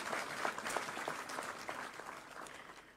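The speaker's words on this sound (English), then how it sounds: "I'll just ask that we give ourselves a round of applause." People at a Kenyan judiciary advocates admission ceremony clap together in a round of applause, a dense, steady patter of many hands that fades slightly toward the end.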